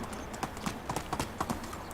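Horse hooves clip-clop in a steady rhythm in the Medieval Dynasty video game as a fast horse trots along, the hoofbeats moderately close over a low background bed.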